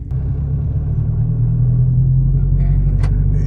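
A manual Dodge Challenger pulls away in second gear, its low engine rumble steady and close throughout, with faint voices in the cabin briefly near the end.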